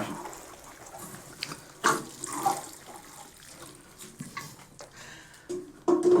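Water runs and drips from freshly watered plant cuttings as they drain, a soft irregular trickle with a few louder splashes and spatters scattered through.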